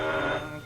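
A 1930s telephone bell ringing in a newspaper office, a single short sustained ring heard close and clear with no talk over it.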